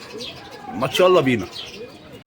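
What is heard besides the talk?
pigeons cooing in a loft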